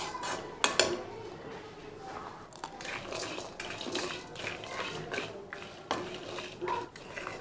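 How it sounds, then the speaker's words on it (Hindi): Walnuts frying in half a spoon of ghee in a pan for Pakistani panjiri, with steady soft frying under repeated clattering and scraping of a spoon against the metal pan. "इसको भी हम थोड़ा सा घी डाल के फ्राई कर लेंगे, बस आधी चम्मच घी।"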